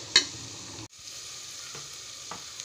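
Onions sauté in a pan for beef biryani with a soft continuous sizzle, marked by a sharp stir or clank at the start and a couple of lighter scrapes later, fairly quiet.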